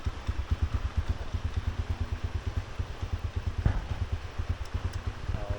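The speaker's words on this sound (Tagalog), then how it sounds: "Andar na siya kahit naka-primera." A Rusi Macho 150cc motorcycle engine runs in first gear, a close, rapid, even chugging throb that pulses steadily throughout with no talk.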